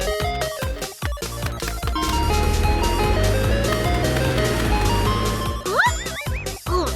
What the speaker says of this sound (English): The ice cream truck was passing through the neighborhood.